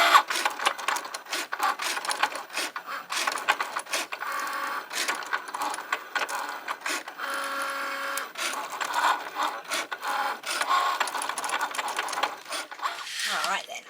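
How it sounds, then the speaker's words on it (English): A Cricut cutting machine works steadily through material on a mat, giving a continuous mechanical whirring with dense ratcheting clicks and shuffling carriage movements throughout. "ready to pop it in the machine and cut it out"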